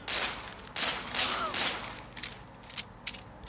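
Rapid bursts of gunfire from the zombie shooting video game Zombie Frontier 3, loud clustered volleys with short gaps, followed by lighter scattered shots.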